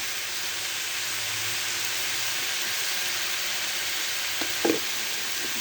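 Spices such as turmeric and dry chili powder fry in a pan, giving a steady loud sizzle, with a few short scraping knocks from stirring near the end.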